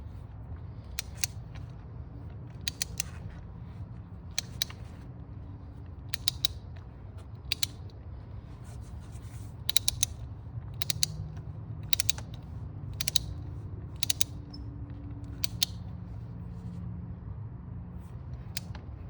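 Ratchet spun to seat a spark plug in a BMW X3 (G01), giving a quiet background hum broken by short bursts of sharp clicking pawl ticks in an irregular rhythm, close by.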